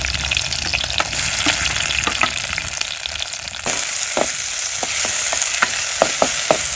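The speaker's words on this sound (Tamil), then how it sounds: "வெங்காயத்தை நல்லா அழகாக வதங்கிருச்சு." Onions fry in hot oil for a small-fish (anchovy) curry, a steady close sizzle with repeated stirring clinks and scrapes throughout, no voices.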